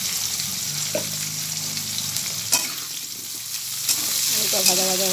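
Potatoes sizzle in hot oil with a little cumin seed added, a continuous close frying hiss broken by occasional spatula clinks and stirring.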